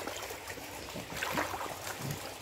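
Bathwater in a home bathtub sloshes and churns softly into small waves, a low continuous splashing with a slightly stronger surge midway, with no voices.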